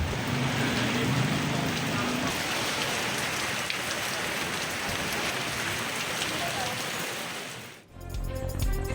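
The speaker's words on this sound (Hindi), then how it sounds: "इस्लामाबाद में तेज हवा के साथ हल्की बारिश।" Light rain with strong wind in Islamabad, a dense steady hiss of drops on surfaces filling the whole stretch before cutting off near the end.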